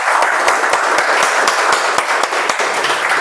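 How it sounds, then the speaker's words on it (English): Applause at a club meeting for the evening's Toastmaster, a room of people clapping with individual sharp claps standing out at a quick, steady rhythm, close and sustained for a few seconds. "Let's have a round of applause for Toastmaster Sukesh."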